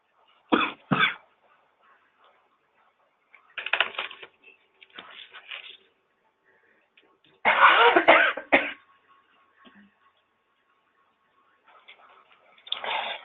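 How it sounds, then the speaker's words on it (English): Scattered coughs and throat clearing from several people, in short bursts separated by quiet gaps, fairly close and moderately loud. "if you're hacking and coughing and sounding disgusting, nobody knows"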